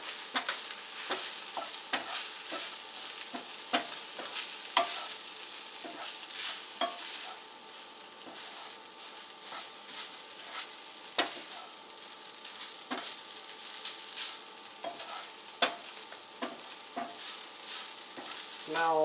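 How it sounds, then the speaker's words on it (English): Shrimp fried rice with soy sauce stirred in a hot pan, a soft continuous sizzle under repeated scraping and tapping of a spatula against the pan, close and moderately quiet, no voices. "Stir, stir, stir, and get that soy sauce all the way mixed into all the rice."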